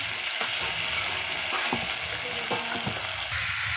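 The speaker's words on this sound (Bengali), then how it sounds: "আমরা কলা ভাজা বসিয়ে দিয়েছি।" Banana slices fry in hot oil with a continuous, dense crackling sizzle, broken by a few light scraping stirs of a spatula.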